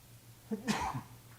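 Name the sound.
sneeze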